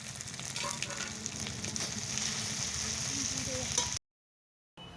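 Ginger-garlic paste frying with chili and turmeric powder in a pan, a close, steady crackling sizzle with a few stirring scrapes, then a brief silence.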